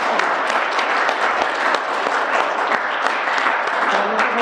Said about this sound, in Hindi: सबके सब तालियां बजा दें